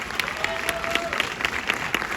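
An audience at a film Q&A applauding, a dense patter of clapping hands sustained through the moment, fairly loud and close, with a faint brief voice tone in the middle.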